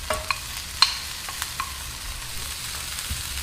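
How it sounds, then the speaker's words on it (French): Frozen peppers and Brussels sprouts are stirred into a pot of oil-coated rice over lowered heat, giving soft scraping and clinking strokes, a few sharper knocks, and a faint sizzle underneath, with no talking. "Je mélange bien."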